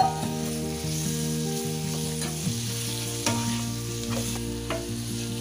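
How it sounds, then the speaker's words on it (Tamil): Washed chicken pieces going into a pan of masala for a spicy Lahori chicken curry, giving a steady close sizzle with stirring scrapes, over background music with sustained tonal notes. "இப்போ நம்ம வாஷ் பண்ணி எடுத்து வச்சிருக்க சிக்கனை வந்து ஆட் பண்ணிக்கலாம்."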